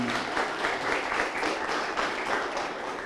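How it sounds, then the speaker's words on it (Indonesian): An audience at an Indonesian discussion event claps in a dense, continuous round of applause that stays loud and even throughout. "Tepuk tangan untuk beliau ya."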